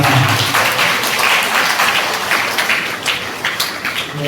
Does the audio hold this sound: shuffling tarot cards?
no